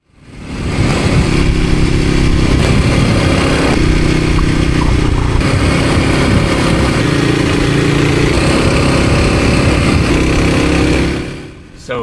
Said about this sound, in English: Here's another comparison clip driving the same route but with the modded and stock exhaust.